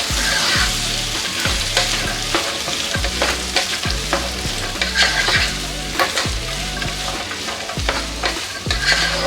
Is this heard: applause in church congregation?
no